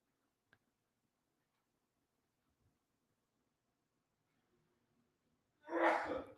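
A single sharp sneeze bursts out near the end after a long stretch of near-silence broken only by a faint click, loud and close against the quiet room.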